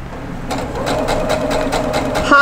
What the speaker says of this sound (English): pop in my corner and start sewing corner to corner, just like that.